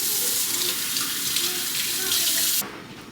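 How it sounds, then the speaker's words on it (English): Tap water runs steadily over marrow bones being rinsed for homemade bone broth, a close, continuous splashing hiss that cuts off abruptly near the end. "just gonna run this under some water."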